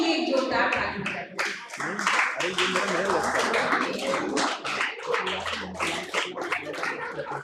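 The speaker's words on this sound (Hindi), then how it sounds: "आप लोग अपने लिए एक जोरदार ताली बजाइए" Audience clapping at a literature festival panel discussion on Hindi literature and youth, a lively burst of hand claps and taps mixed with talking and scattered voices throughout.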